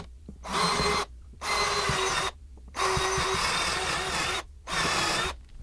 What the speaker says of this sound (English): we're going to drill our screw holes. We have a 3/16 drill bit